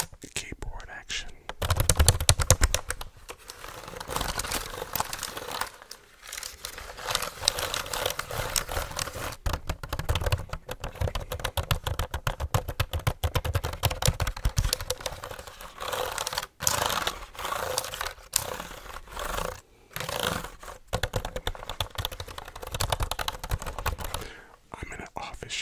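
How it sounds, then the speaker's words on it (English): Close-miked ASMR computer keyboard typing in an office setting: a dense, continuous clatter of keystrokes lasting throughout, with soft whispering blended in at times. "Keyboard action."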